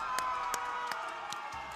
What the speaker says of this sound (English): Oh, sorry, I was clapping.